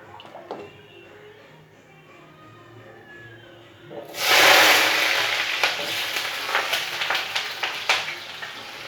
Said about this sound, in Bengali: তেলেতে আমি এখন একটু আলু ভেজে নেবো